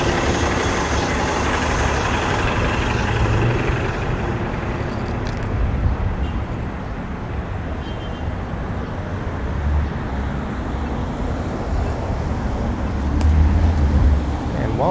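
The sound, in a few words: road traffic with cube vans speeding along a stroad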